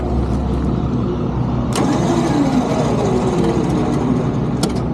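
A Jeep on a dead battery has its engine cranked, a low labored churning that drones on with a sharp click partway through and another near the end, close and loud with no voices.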